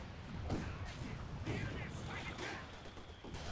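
Land Mattress rocket artillery barrage in Company of Heroes 2, a dense rumbling spread of impacts and crashes rolling on continuously at moderate level, mixed with other battle noise.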